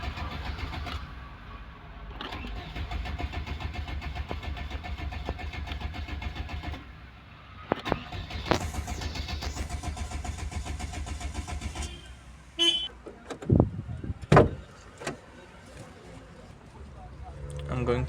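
A VW Polo Classic with an over-fuelling fault cranks and tries to start, a long steady mechanical churning that stops, then returns in shorter uneven bursts with clanks, and a person talks nearby.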